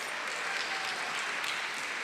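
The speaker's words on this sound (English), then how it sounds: "A round of applause for the Spring 2025 nursing graduates" A faint, steady wash of applause from a hooding ceremony audience for Spring 2025 nursing graduates of the Dr. F.M. Canseco School of Nursing, distant and even throughout.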